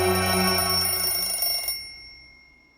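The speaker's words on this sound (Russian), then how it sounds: "Сейчас будет звонить по телефону." A telephone bell rings loudly and close for under two seconds, then cuts off and leaves a fading, ringing decay.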